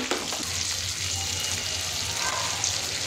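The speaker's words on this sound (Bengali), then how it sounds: "মাংসটার সাথে পেঁয়াজ দিয়ে দিয়েছিলাম। পেঁয়াজটা ভাজা হয়ে গেছে।" Meat frying with onion, ginger, tomato and garlic in a pan, giving a steady, close hiss of sizzling oil that continues without a break, with no talk.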